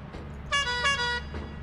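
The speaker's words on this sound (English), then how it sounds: "I'm gonna get on the ship and then I'm gonna give two honks" Ship horn in the video game Lethal Company, one loud tonal honk of about 0.7 second with a slight dip in the middle, then a faint trailing echo over a low background hum.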